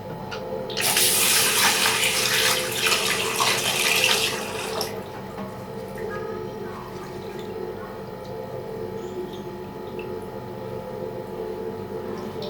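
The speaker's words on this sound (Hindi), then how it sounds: "अब खुले बर्तन में मैं इसको धोऊँगी।" Sago pearls being rinsed by hand in water in an open pot, with a loud splashing, running-water wash for about four seconds that then drops to a faint, steady trickle and background hum.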